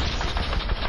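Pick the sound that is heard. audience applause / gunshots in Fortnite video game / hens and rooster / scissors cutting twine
gunshots in Fortnite video game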